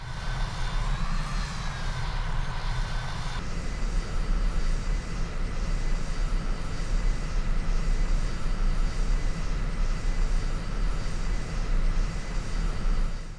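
Aircraft engine drone as a plane taxis toward its takeoff position in a flight combat video game, a steady loud hum and whine that shifts in pitch early on, then holds a continuous even roar.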